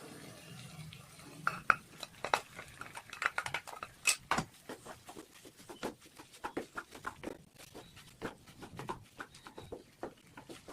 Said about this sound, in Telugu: సో ఇప్పుడు మనం ఉడికించుకున్న రైస్ వేసుకుందాం.